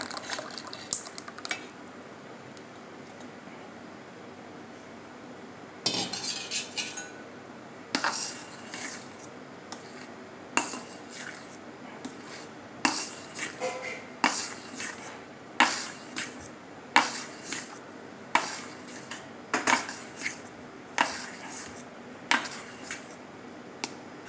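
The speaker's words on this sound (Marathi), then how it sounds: "आता हे सर्व मिश्रण आपण क्रीम क्रीममध्ये मिक्स करूया" Metal spoon clinking against a bowl while mixing a watermelon ice cream mixture into cream, sparse at first, then a steady run of sharp, close taps and scrapes in an even rhythm.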